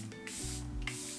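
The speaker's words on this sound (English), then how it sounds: "Going to spray my face" Makeup setting spray is misted onto a face in short bursts, a close, airy hiss repeated twice in quick succession.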